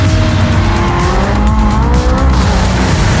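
A vintage Le Mans-winning Porsche race car roars loudly in Project CARS 2, its engine note shifting steadily with tire squeal and skidding throughout, close and continuous with no talk.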